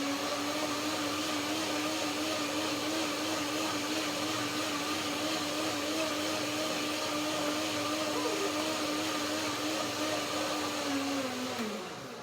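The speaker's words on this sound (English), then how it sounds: "One more blender dance." A blender whirs continuously and loudly, mixing a lemony cashew yogurt dressing, its motor drone steady throughout before pitching down as it winds off at the end.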